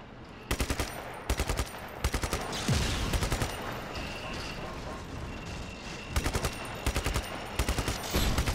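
Automatic gunfire in the Just Cause 3 video game, loud rapid bursts repeating in clusters with a sustained blast-like roar in the middle, dense and close throughout.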